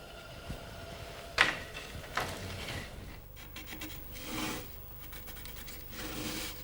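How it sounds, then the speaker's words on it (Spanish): Steady rasping of sanding on the drilled holes of wooden drum hoops, continuous and close, with a few brief sharper scrapes and knocks early on. "venir otra vez a la lijadora y lijarle todos los agujeros"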